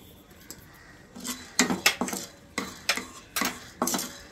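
Cumin seeds dry roasting in a pan for pepper rice, with a steady series of light scraping and tapping stirs against the metal, fairly close and moderately loud.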